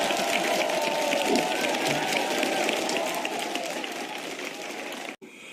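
Audience applause at a live broadcast event, a dense steady wash of clapping from a crowd that holds loud for about five seconds before cutting off abruptly near the end.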